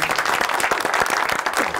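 Loud studio audience applause on a Turkish talk show, dense rapid clapping close to the microphone that fills the short moment without talk.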